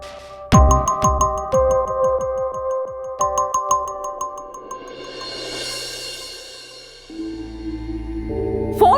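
Phone ringtone chimes in repeated melodic bursts, rings out twice without being answered, then fades into a low hum and soft background music.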